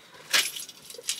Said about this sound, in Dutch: Sleutels.